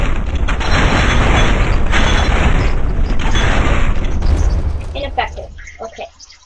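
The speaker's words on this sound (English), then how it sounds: "He's going to use his powerful shotgun to try and break through this wall." A shotgun blasting against a wall in the video game People Playground, heard as a dense, loud rumbling barrage of impacts that fades out over the last seconds.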